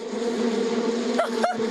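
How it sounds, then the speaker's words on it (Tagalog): A swarm of bees drones in a continuous, close buzz, with a couple of brief higher sweeps near the end. "May mga bubuyog!"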